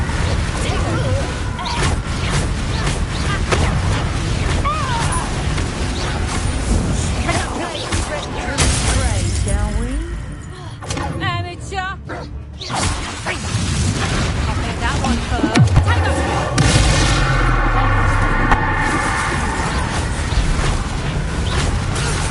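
Repeated Confringo blasting spell explosions in Hogwarts Legacy, dense booming blasts and crashes stacked over a continuous loud game mix with voices shouting throughout.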